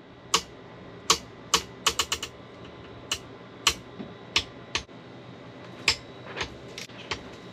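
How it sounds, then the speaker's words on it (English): Supercharger pulley bolts on a Kawasaki Ultra 310 jet ski click sharply as a torque wrench tightens them, a dozen or so irregular near clicks over a faint steady fan hum, with no talking. "the bolts do make a sound as they're being tightened, which kind of throws off your torque wrench"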